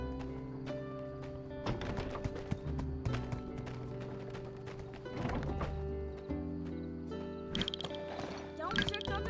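Horse hooves clip-clop at a steady riding pace in the Sandrock video game, close and rhythmic, with occasional whinnies and layered under game music and chatter.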